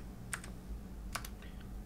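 Two quick clusters of keystrokes sound on a computer keyboard while someone types Python code. The taps are crisp and close, with quiet room hiss between them.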